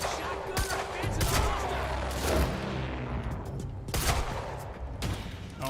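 Chaotic gunfire in the action game Quantum Break, a steady barrage of overlapping shots and impacts running throughout at moderate loudness, with talking mixed in.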